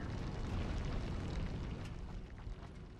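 Miner drilling down through a factory floor in the video game Satisfactory, a continuous low rumbling grind that is fairly quiet and steady, easing slightly toward the end.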